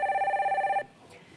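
A telephone rings in a steady warbling trill for under a second and then cuts off as a phone-in call to a Korean stock-market broadcast connects, leaving quiet studio air.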